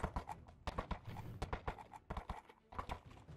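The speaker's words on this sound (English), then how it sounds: "Speed, my lord. They have horses." Horses galloping, their hooves clip-clopping in a fast, uneven, rapid rhythm of sharp thuds, fairly close and steady throughout.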